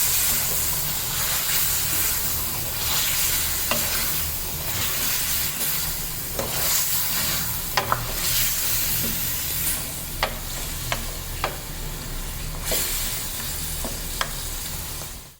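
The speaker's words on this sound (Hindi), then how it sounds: "अब इसको फिर से थोड़ा सा भून लेंगे।" Ginger and garlic with salt fry and get stirred in a pan for Afghani chicken karahi, a constant close hiss and sizzle broken by intermittent spoon scrapes and clinks against the metal.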